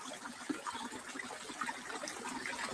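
A waterfall splashes and flows nearby, a steady rushing and trickling wash of water with small splashy bursts throughout.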